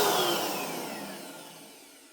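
An Inokraft DX prototype electric paint sprayer runs with a steady broadband hiss and whine, spitting slightly, gradually fading over a couple of seconds with no talking.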